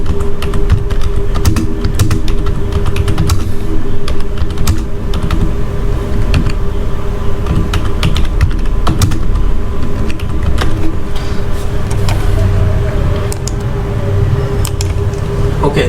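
Rapid, steady typing on a computer keyboard fills the clip, with loud, close clatter of keys running continuously under a constant low hum.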